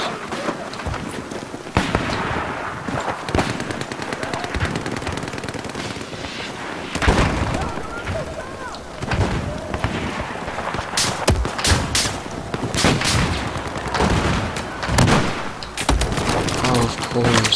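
Rapid automatic gunfire in Battlefield 4 online multiplayer rattles in repeated bursts at close range. Shots overlap with game noise, and a player talks over the action.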